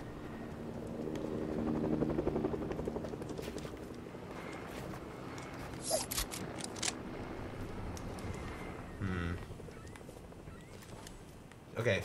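A helicopter in a Fortnite match drones steadily with a low rotor rumble throughout, loudest early on, mixed with other game sounds and brief sharp effects.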